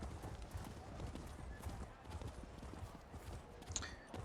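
Horse hooves clip-clop steadily at a riding pace in a video game, a continuous quiet galloping rhythm with faint ambient game sound behind it.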